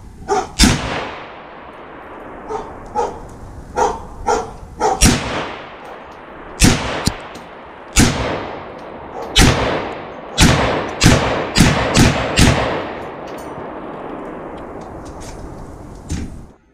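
Ruger SFAR .308 semi-automatic rifle fired outdoors, a dozen or so sharp, loud shots at irregular intervals, some in quick pairs and clusters, with brief echoing tails and no talking.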